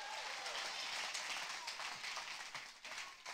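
Church congregation clapping along during a sermon on prayer, a continuous bright patter of many hands with faint voices and cheers mixed in, fairly distant and steady.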